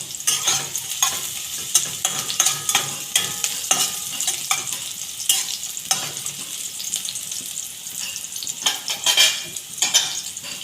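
Garlic and ginger sizzle in a pan for egg bhuji, with repeated rhythmic scraping and clinking of a spatula stirring against the metal throughout.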